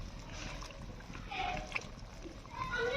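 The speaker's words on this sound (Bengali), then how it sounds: "আমার তরকারিটা ফুটে গিয়েছে।" A curry of drumstick vegetable stalks and potatoes with mustard, salt, turmeric and cumin bubbles in a pot, giving a soft, steady simmer with faint splattering pops, close and quiet.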